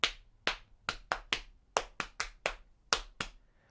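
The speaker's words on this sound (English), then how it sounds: "We can slap our knees." Palms slapping the knees as body percussion, eleven crisp, close slaps in a steady, slightly uneven rhythm, with no talk.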